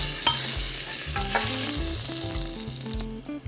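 Onions, carrots and garlic sauté in a Dutch oven after short ribs were seared, a loud, close sizzle with scraping stirs and clicks of a utensil, while low tonal music plays underneath; nobody talks.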